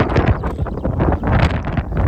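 Loud, gusting wind buffets the microphone in rough, uneven bursts at a carp fishing lake, a continuous roar with no voices.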